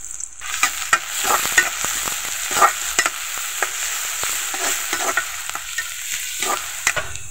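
Chopped onion, garlic and green chillies fry in oil, giving a steady close sizzle broken by frequent sharp clicks and scrapes of stirring, with no voices.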